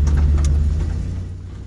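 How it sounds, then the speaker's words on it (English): An extreme off-road wrecker truck with a new engine tows a Jeep, its motor holding a low, steady drone close by that eases off slightly toward the end. "As we were towing the Jeep, I was carefully listening to the engine for any unwanted sounds."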